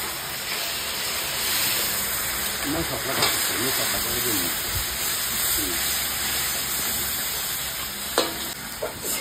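Water splashed into a hot pan of frying fish sets off a loud, continuous sizzle and hiss, with stirring scrapes and a few clinks as someone talks over the cooking.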